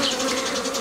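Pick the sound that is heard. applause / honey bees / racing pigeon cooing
honey bees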